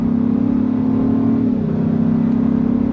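A 2023 Land Rover V8 Carpathian Edition performance SUV accelerates hard, its steady engine drone loud and close throughout with a slight pitch shift midway as it pulls through the 8-speed gearbox.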